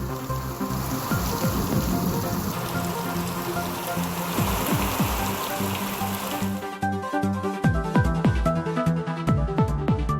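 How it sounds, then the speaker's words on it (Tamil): Heavy rain pours steadily in Valparai, a dense, continuous hiss of drops pattering on surfaces, loud and unbroken throughout with no voices. "வால்பாறையில் பெய்த கனமழையால் குளிர்ச்சியான சூழல்."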